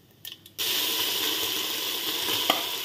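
Cumin seeds sizzle steadily in a pan over low heat, a continuous soft hiss starting after a brief quiet moment, with one small crackle near the end.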